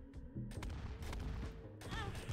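Explosions burst in quick succession in the video game Binding of Isaac, dense booming blasts layered over game sounds with little pause between them.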